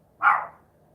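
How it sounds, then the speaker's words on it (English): One short sharp bark from a dog indoors, close and fairly loud, rising quickly and fading within half a second, against a quiet low hum. "He's barking at the neighbors."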